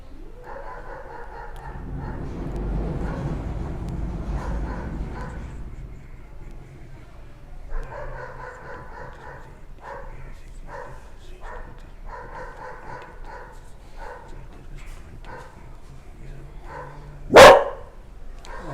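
A dog barking in repeated bursts, fairly close, some barks in quick runs and others spaced apart, with a loud thump or bang near the end and occasional quiet voices.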